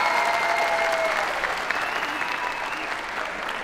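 A crowd at the opening of a comedy show bursts into sustained applause, a full, even wash of clapping that slowly eases as music tones ring faintly underneath.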